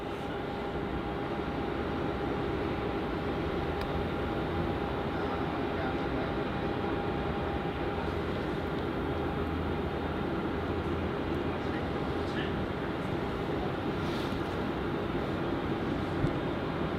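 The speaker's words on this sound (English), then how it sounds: "looks like the Qantas A330 is going to vacate the runway quite early there" Steady, loud rumble of a Qantas Airbus A330 on the runway at Melbourne Airport in heavy rain, a continuous broadband roar with a faint tonal whine held throughout, no talk.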